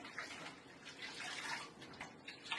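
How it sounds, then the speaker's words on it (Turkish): Running tap water and splashing at a kitchen sink while dishes are washed up after breakfast, a steady close rush with small clinks throughout. "Ondan hızlıca bir şekilde yıkayıp kaldırmam lazım."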